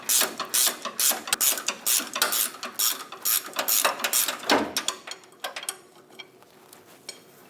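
Ratchet wrench loosening the pitman arm bolt on a Chevrolet Express 2500 van, a close, steady run of sharp metallic clicks from the pawl, faster early on and thinning out near the end, with no talking.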